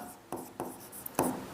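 Pen or chalk writing numbers during a Class 10 math lesson, a few short scratchy strokes close by and fairly quiet, with no talking.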